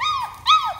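A puppy whimpers in two short, high, whining cries that rise and fall, close and clear with a quiet background.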